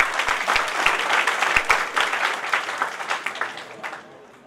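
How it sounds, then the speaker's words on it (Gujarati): College students at an annual function applauding honoured guests, a dense burst of clapping close by that swells, holds steady, then tapers off toward the end. "દરેક મહેમાનના સન્માન વખતે સરસ મજાની તાળીઓ પાડતા વિદ્યાર્થીઓ"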